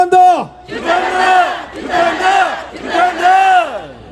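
A protest crowd at an outdoor rally in Mokpo against the Fukushima contaminated-water ocean release chants slogans in unison, three loud, rhythmic shouted bursts following a single lead call.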